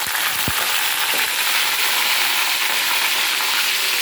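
Corn kernels frying in hot oil in a wok, a loud, dense, continuous hiss and crackle with a couple of soft knocks at the start.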